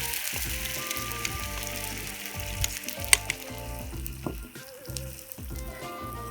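A tomato and garlic mix sizzles and spits in hot olive oil in a pan, a dense continuous crackle with occasional sharper pops and stirring scrapes, close and steady with no talking.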